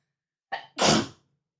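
A single close sneeze: a short sharp intake followed by one loud, explosive burst, alone in otherwise quiet surroundings.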